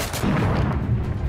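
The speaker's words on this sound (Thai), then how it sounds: "เฮ้ยระเบิดไปอีกลูกแล้ว" Heavy bomb blasts in the video game The Order: 1886, loud, close booming rumbles stacked in a dense low-end roar that lasts the whole brief moment.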